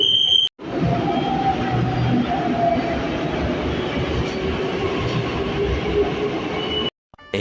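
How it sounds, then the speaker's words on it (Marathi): A metro train pulls into a station with a loud, steady rumble and rushing roar close by, a high tone ringing over it, starting abruptly and cutting off near the end. "मेट्रो आली आहे, बहुतेक जावं लागेल आता."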